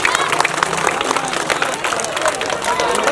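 An audience applauding loudly after a Maithili street play about dowry, a dense patter of many hands clapping close by with crowd voices mixed in.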